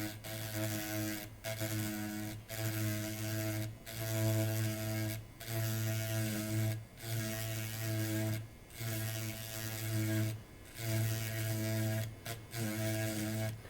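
A small rotary grinding tool works on a liquid-damaged circuit board from a 2010 Subaru Forester, giving a steady mechanical whine with harmonics, broken into about ten close, loud bursts of roughly a second each, separated by brief pauses.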